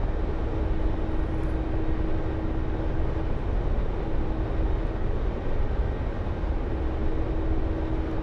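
A Mi-24 helicopter in the DCS flight simulator hums with a loud, steady turbine drone and a constant whine running underneath, unbroken and without talk.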